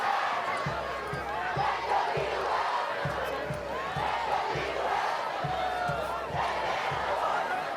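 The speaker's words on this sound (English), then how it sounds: "doing a little cheer. Got everybody excited on the sideline." Raider Brigade fans chant and yell together at a high school football game between Perry Panthers and West Laurens Raiders, a loud outdoor crowd with rhythmic thumping beats under continuous voices.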